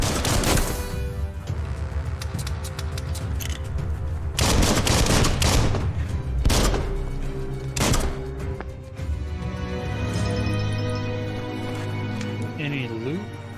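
Gunfire in the action game Biomutant rattles in dense bursts of rapid shots with heavy thuds, loud and close, while someone talks over parts of it.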